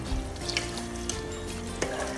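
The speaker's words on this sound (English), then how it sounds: "Then it still need a bit of water, so I'm going to pour about 1 cup." Water pours steadily into a pot of Nigerian party jollof rice made with basmati, about a cup added in one continuous close trickle with faint clinks, no talking.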